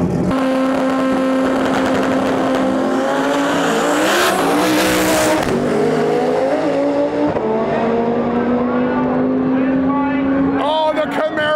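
Stick-shift drag race cars launch at an import-versus-domestic World Cup Finals event, one of them a Camaro. Engines scream loudly as they rise in pitch through the gear shifts, with tire squeal and an announcer talking over the roar.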